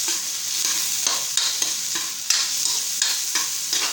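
Shrimp going into a hot cooking pan, a bright hissing sizzle with rhythmic stirring scrapes roughly every half second, loud and near with no voices.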